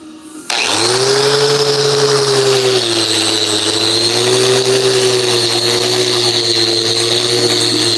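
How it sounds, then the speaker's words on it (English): Angle grinder cutting in a home garage, a loud steady high-pitched whine that starts abruptly after a brief quiet moment and holds near and constant, its pitch dipping slightly as the disc bites into the work. "I'm gonna use a grinder"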